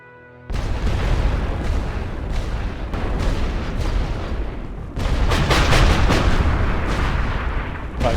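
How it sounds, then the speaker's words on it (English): Artillery shells burst in the Great War Western Front game, a dense continuous rumble of booms after a quiet opening, with a louder surge of blasts in the second half. "More shells coming down."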